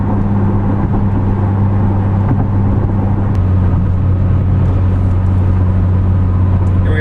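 Camaro V6 fitted with an MRT axle-back exhaust cruising at 2,000 RPM, a loud, continuous low engine drone mixed with road rumble inside the cabin, steady throughout with no talking.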